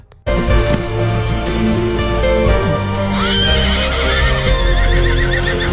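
Horses neigh and whinny in the animated film Spirit, loud and close, with a long rising call midway, over a continuous orchestral score and faint hoof clops.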